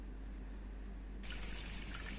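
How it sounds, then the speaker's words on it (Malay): Water gushes hard out of a broken sewage pipe running to a full septic tank, a steady close rushing flow with no voices, growing slightly brighter and louder partway through. "Tengok air tu keluar kuat"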